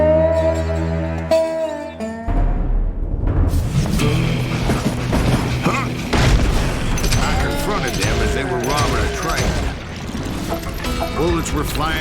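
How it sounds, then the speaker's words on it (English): Gunfire and bangs erupt in a Call of Juarez western shootout, a dense, steady barrage of shots, impacts and clattering mechanisms that starts after a brief musical intro and continues loud throughout. "Bullets were flying at me from every which way."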